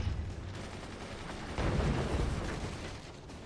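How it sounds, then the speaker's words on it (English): Machine guns firing in the strategy game Forts, a dense continuous rattle of rapid gunfire with booming impacts mixed in, loud and steady throughout with a surge midway. "Why were my machine guns firing?"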